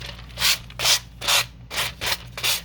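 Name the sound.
sanding block rubbing paper edge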